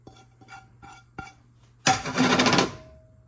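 Shredded sharp cheese being stirred into macaroni in a bowl, a few soft scraping taps at first, then a louder, busier burst of mixing and clinking near the end, close by with no talk.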